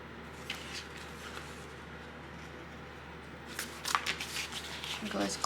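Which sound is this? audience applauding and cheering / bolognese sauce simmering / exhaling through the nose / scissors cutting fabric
scissors cutting fabric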